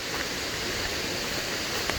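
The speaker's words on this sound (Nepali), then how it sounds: "यो पानी खाने ठाउँ खोला यो" Hillside stream flowing at a drinking water spot, a steady close rushing hiss of water running without a break.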